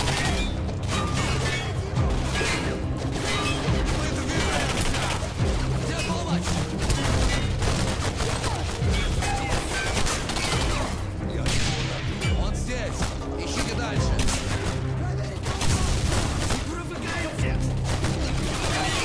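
Repeated shotgun blasts in the sci-fi shooter game Singularity, punching through a dense, continuous mix of gunfire, impacts and game music, loud and close, with speech woven in at times.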